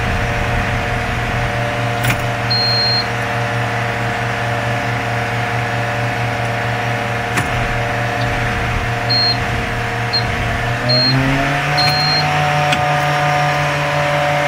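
Old school bus engine running at a salvage yard, a steady droning hum with tonal whine that rises in pitch near the end as the engine revs, a few faint beeps and clicks, no talk.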